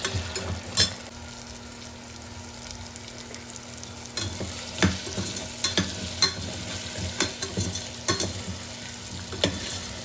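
Potatoes fry in a pan with a steady sizzle and repeated clattering stirs that grow busier in the second half, close and fairly loud, no voices.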